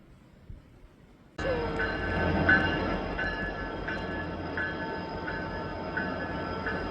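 A train arrives abruptly after near-quiet and rolls past with a steady rumbling roar and a regular clicking rhythm of wheels on rail joints, moderately close and continuing to the end.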